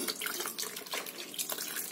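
Hot water runs and splashes steadily for soaking old hair with conditioner during wig making, a continuous close trickling wash with no voices.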